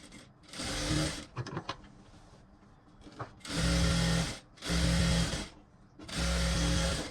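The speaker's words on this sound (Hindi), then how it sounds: "इस पर आप दाब सिलाई लगाइए।" Sewing machine stitching a blouse in bursts, with three loud steady runs of whirring stitches separated by brief pauses and small handling clicks, close and alone.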